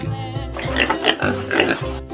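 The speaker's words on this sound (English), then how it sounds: "Pig." A pig oinks and grunts in a short run of snorty calls, moderately loud and fairly close, over a steady low background with no speech.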